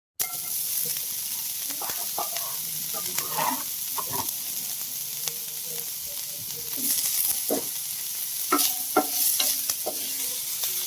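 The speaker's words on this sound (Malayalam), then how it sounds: "ഇതൊന്ന് എണ്ണയിലിട്ടൊന്ന് പഴറ്റി സോട്ടാക്കി എടുക്കാം" Finely chopped mushrooms sauté in oil for a sandwich filling. A continuous bright sizzle is punctuated by occasional stirring taps and scrapes from a spoon, heard close up with no talking.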